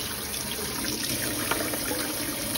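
Water running and splashing steadily while a GE dishwasher filter is rinsed under a tap, close and continuous, with no voices.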